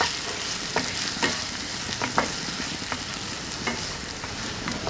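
Soya chunks and chopped jalapeno frying in a pan over a low to medium flame, with a steady sizzle under irregular scraping stirs that click and tap at close range.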